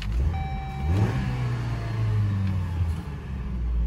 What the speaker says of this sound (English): Starts up beautiful.